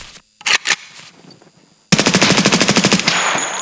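Automatic gunfire from a close-range weapon in Escape from Tarkov, firing after a nerf that makes it overheat: a brief burst and pause, then a loud, rapid, steady stream of shots continuing to the end.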